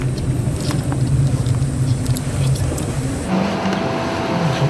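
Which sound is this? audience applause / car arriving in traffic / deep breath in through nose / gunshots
car arriving in traffic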